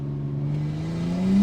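Nissan R34 Skyline engine revving steadily, its pitch climbing slowly as the car rolls downhill and the wheels begin to lose traction; a close, continuous drone that swells louder toward the end.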